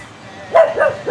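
A dog on Kuta Beach in Bali in the early morning gives three quick, close barks in a row, sharp and fairly loud.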